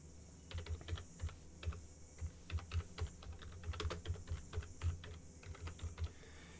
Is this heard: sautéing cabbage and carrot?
no